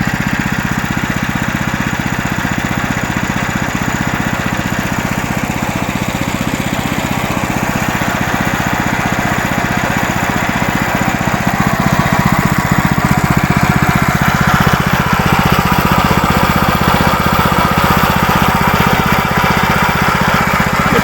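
Engine of a homemade pumpkin windrower fitted with a Mercedes belt tensioner, running steadily and loud for about twenty seconds, its drone thickening slightly partway through.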